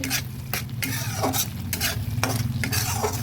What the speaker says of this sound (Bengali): মশলাটা ভালোভাবে ভেজে নিয়েছি এবং চারদিকে তেলও বেরিয়েছে